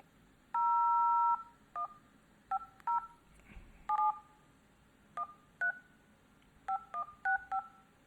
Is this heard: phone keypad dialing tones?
yes